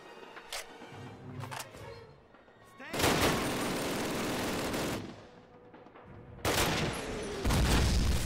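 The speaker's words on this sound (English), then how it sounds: "Ah, more MG42s, lovely. Who doesn't love that amazingly horrifying sound?" MG42 machine gun fire in a Call of Duty game: scattered single shots give way to two long, loud, rapid sustained bursts, each lasting a couple of seconds, with a brief lull between them.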